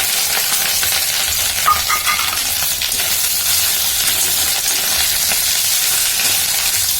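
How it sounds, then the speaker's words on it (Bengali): Fish roe frying in hot oil gives a steady, close, continuous sizzling hiss with faint scraping stirs, no voices. "আমি এই ডিম ভাজছি। মাছের ডিম এই তেলের মধ্যে দিলাম।"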